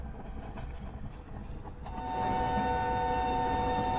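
A train in the Open Rails simulator rolls slowly toward a platform, a steady rumble of wheels and carriages with a sustained horn-like tone growing louder in the second half, heard alone.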